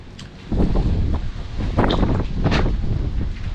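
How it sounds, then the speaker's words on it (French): Strong wind buffets the microphone outdoors at a farm abandoned for forty years, a loud continuous low roar with several heavier gusts surging through, no voice heard. "Malheureusement il y a beaucoup de vent, ça va être difficile de parler."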